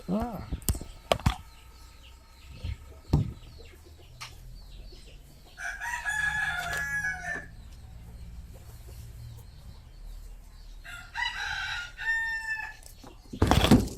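A rooster crows twice, loud and close, with long drawn-out calls separated by several seconds, amid clicks and low room noise.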